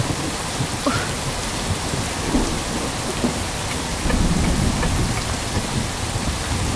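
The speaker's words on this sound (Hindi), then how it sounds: "अरे बाप रे, बहुत बारिश है।" Heavy rain pours steadily in a dramatic film scene, a dense, loud wash of drops with rumbling low thunder swelling underneath, no voices.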